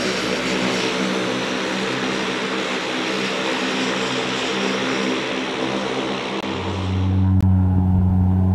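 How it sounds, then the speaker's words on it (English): A float plane roars steadily as it takes off at Muncho Lake, the loud propeller engine drone holding for several seconds and shifting to a deeper hum near the end. "So we have float planes landing and taking off here"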